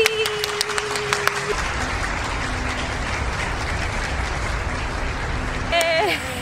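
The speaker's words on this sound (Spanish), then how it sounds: "Un fuerte aplauso para Lisa" An audience applauding at an event in Havana as a YouTuber is welcomed on stage, a steady wash of clapping that begins after a brief moment of speech and continues alone, with a voice cutting back in at the end.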